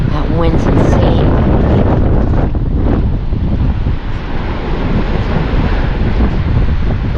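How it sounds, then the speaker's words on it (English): Strong wind roars across the microphone at Lido Beach, a loud, continuous buffeting rush lasting throughout, with breaking surf mixed in beneath the gusts. "That wind's insane."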